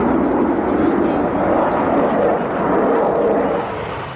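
A Eurofighter jet roars loudly and steadily, a broad rushing engine noise that fades slightly at the end.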